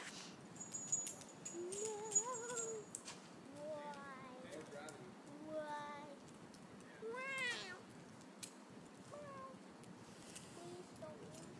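A cat trapped inside a bag gives a run of repeated, muffled meows, some drawn-out and rising, while people talk quietly nearby.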